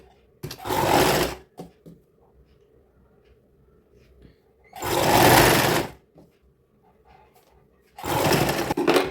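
A sewing machine stitching a neckline on a child's sharara outfit runs in three separate bursts of fast, loud whirring with quiet gaps of handling between them.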